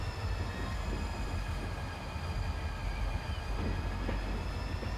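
Trains running on double track in the game Transport Fever, a continuous dense rolling rumble with faint metallic whine, steady and loud throughout with no talk.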